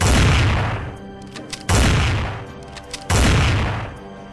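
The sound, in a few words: gunshots fired into the air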